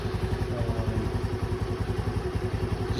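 A 2022 Honda Navi motorcycle engine runs steadily after a warm start, a close, even, pulsing putter at idle with a light mechanical clatter and no change in pace.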